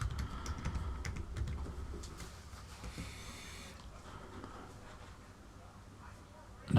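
A computer keyboard is typed on in a quick burst of close, light key clicks, then the tapping thins out into quieter room noise.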